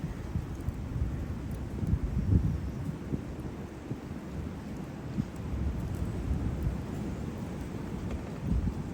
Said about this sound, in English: When the air goes inside this tube, it sounds like a train.